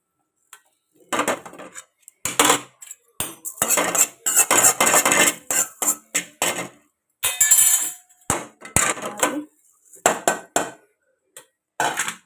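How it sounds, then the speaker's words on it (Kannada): A metal spoon stirs a sweet mixture of water and sugar in a pot, scraping and clinking against the sides in a steady run of close, fairly loud strokes with brief pauses, and no talking. "ತಿರುಗ್ತೀನಿ ಸ್ವಲ್ಪ ತಿರುಗ್ತೀನಿ ತಿರ್ಕೋತೀನಿ"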